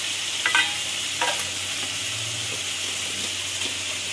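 Spiny gourd with salt and turmeric fries in a pan over high heat, a soft steady sizzle with a few scraping strokes as it is stirred.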